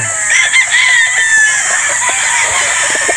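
Gamefowl roosters of Sweater Boston and pure Boston Roundhead breeds on a game farm in Batangas crow loudly and repeatedly, the long crows overlapping with some clucking, close to the microphone and with no talking.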